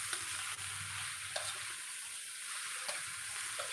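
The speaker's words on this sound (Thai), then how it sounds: "นำหน่อไม้มาคั่ว" Bamboo shoots are stir-fried in oil in a pan with a steady, loud sizzle and occasional stirring scrapes, without talking.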